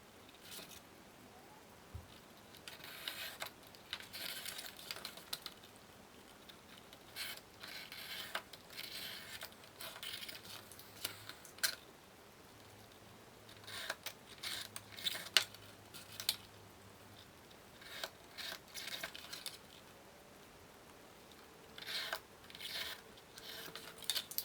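Leather pieces being cut out along marked lines for a wet-formed pouch, giving a series of quiet, irregular snipping and scraping sounds with occasional tool clatter at close range, no speech.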